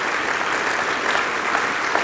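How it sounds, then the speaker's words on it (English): An audience claps steadily at a knife industry awards ceremony, a dense, even wash of applause from a large crowd filling the room with no pauses. "So please join me applauding in their excellent efforts."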